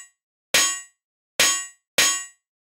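Synthesized metallic snare hits: three sharp, clanging, ringing strikes, each decaying quickly, played alone with short gaps between them.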